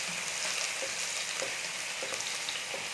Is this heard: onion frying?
yes